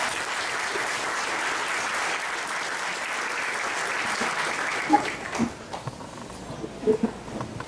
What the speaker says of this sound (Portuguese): Vamos receber o nosso convidado com a salva de palmas.